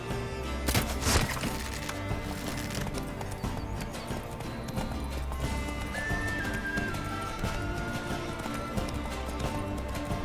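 Hooves of Roach, the horse in The Witcher 3, clip-clop in a steady, continuous rhythm close by, mixed with game sounds and a brief whinny-like tone.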